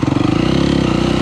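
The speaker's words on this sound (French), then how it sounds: "je suis obligé de jouer avec l'embrayage. Le moteur il surchauffe." A quad ATV engine, overheating, revving hard up close as the rider works the clutch, a loud throbbing mechanical pulse over about a second.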